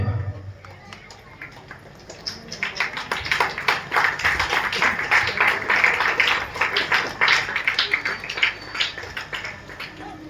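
An audience honouring an artist at a Ramlila celebration breaks into clapping that builds from a quiet start into loud, rhythmic rounds of applause, with a voice heard over it.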